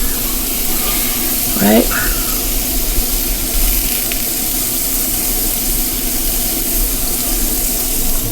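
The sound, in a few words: pork for tacos bubbling and sizzling in a hot pan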